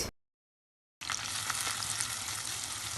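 Chopped onion with mace, cloves, cinnamon, bay leaf, black pepper and cardamom drops into hot cooking oil after a short silence, then a loud, steady sizzle and crackle of frying carries on alone.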